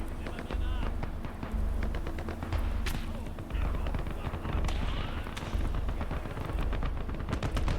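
Artillery and gunfire in the winter Stalingrad battle of the game Call to Arms Gates of Hell: Ostfront, with rapid overlapping rifle and machine-gun bursts, rolling low booms and distant explosions in a constant dense barrage.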